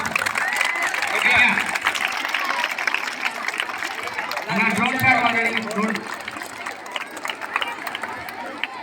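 Children clap at an Independence Day sports event at a college in Ongole, scattered applause and crowd noise rising in waves under an adult voice speaking over a loudspeaker.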